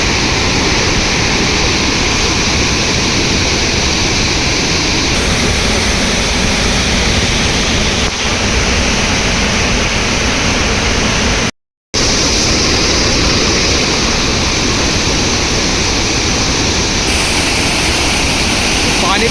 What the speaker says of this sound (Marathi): पाण्याचा प्रवाह आपण पाहू शकता किती तुफान आहे